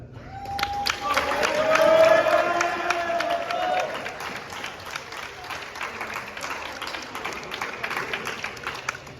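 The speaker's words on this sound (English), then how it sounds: "Everyone, clap it up for Zach" Applause and cheering from a crowd at a boys' volleyball senior night, honoring a graduating player; loud clapping with whoops swells early, then settles into steady dense clapping.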